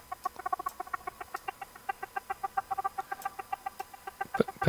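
Small percussive synthesizer blips gated by triggers, a rapid irregular stream of short plucky tones at moderate level with no talking.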